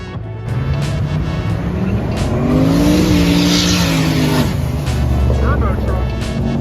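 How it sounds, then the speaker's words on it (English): A turbocharged truck pulls out of a Cars and Coffee muscle car meet with a loud, close engine roar that rises as it accelerates away, while people talk nearby. "Turbo truck."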